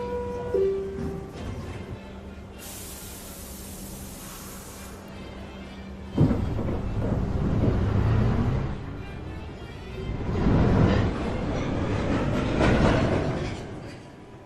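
A New York City Subway 1 train, a downtown local, pulls out of Lincoln Center station with a rising rumble and rattle of wheels after a brief high tone and a door chime, growing loud then fading slightly.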